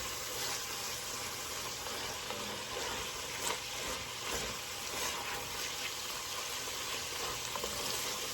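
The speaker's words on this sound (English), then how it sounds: "start scraping up any brown bits that you have on the bottom of your pan" Meat browning in a pot for a creamy one-pot pasta, a steady, faint sizzle and bubbling hiss while a wooden spoon scrapes browned bits from the pan bottom.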